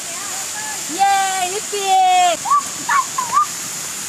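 Waterfall at Karjat, reached on a trek, giving a steady rushing hiss beneath loud whistles, shouts and talking voices.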